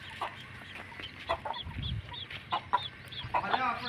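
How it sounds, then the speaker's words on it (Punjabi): A pure Punjabi Asil hen with chicks gives short, repeated clucks at close range, spaced irregularly against a quiet farmyard background with faint voices. "ਇੱਕ ਆ ਫਿਰਦੀ ਕੁਕੜੀ ਇਹਨੇ ਬੱਚੇ ਕੱਢੇ ਹੋਏ ਆ"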